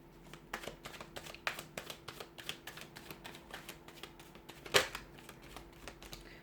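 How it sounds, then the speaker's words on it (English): Tarot cards being shuffled by hand, a steady run of crisp riffling flicks close up with one sharper slap near the end, and no talking over it. "So we're going to give the cards a shuffle here"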